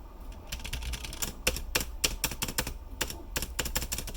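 A newly 3D-printed keyboard spacebar pressed repeatedly, giving quick, crisp, hollow clacks in an irregular fast rhythm, close up and fairly quiet with no talking.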